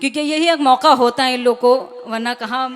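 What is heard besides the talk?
No distinct noise like a dog, phone or traffic.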